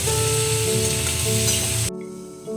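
Turmeric sizzling and frying in a pan, a loud, steady crackle with stirring that cuts off abruptly near the end, leaving a quieter hiss.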